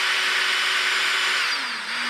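A power drill backs screws out of the plastic differential carriers of a Traxxas X-Maxx RC truck. It runs as one steady, loud, continuous whir close by for about two seconds, dipping slightly near the end, with no talk.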